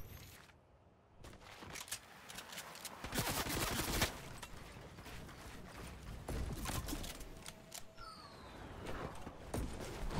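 Rapid bursts of video game gunfire crackle throughout, dense and continuous, with a few sharper shots standing out and no speech.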